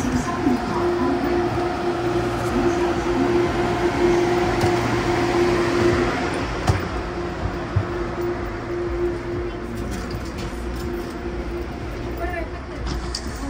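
A steady rumble and hum of the Hong Kong Airport Express train in motion toward Kowloon Station, with a constant mechanical drone and occasional faint clicks, heard from inside the carriage.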